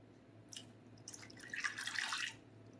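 Half a cup of water is poured into a bowl of strawberry cake mix, a faint splash and trickle that builds into a brighter gurgling pour before stopping.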